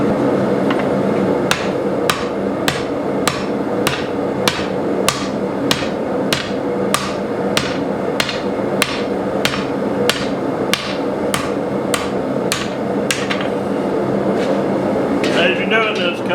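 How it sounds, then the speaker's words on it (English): Sharp hammer strikes ring out on hot metal being hand-forged into a pot rack, at a steady, even pace, about one blow every half second, over a constant background hum. "Now we want to make sure that we're hammering it the same way every time."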